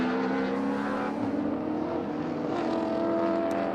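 Group A and C heritage touring cars racing at Winton, led by a 5.3-litre V12 Jaguar and a 5.8-litre Cleveland V8 Ford Falcon, with a loud continuous engine roar at full throttle throughout.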